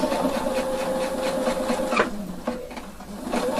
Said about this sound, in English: now it's just time to make a nice stitching in the distance I like